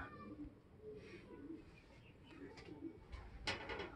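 Faint pigeons cooing softly in the distance, with scattered quiet rustles and outdoor background noise.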